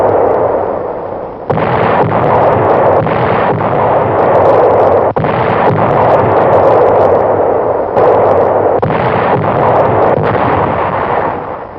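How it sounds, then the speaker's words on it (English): Allied WWII artillery guns firing near fortified Metz: a dense run of loud booming blasts and rolling reports, with several sharp onsets and sustained rumble between them, no voices. "Our big guns open up."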